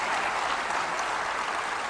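Dense, steady audience applause fills a hall at a university centenary celebration in Kanpur, loud and continuous from start to finish with no voices standing out.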